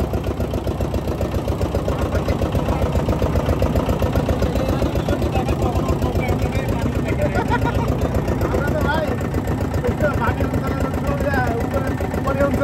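A small riverboat's motor runs steadily at a constant mid-pitched drone throughout, loud and close, with no pauses.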